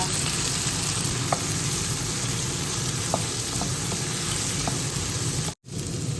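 Sliced hotdog sausage and bitter gourd fry in a pan with a loud, steady sizzle, a few faint clicks of stirring scattered through, and a brief dropout near the end.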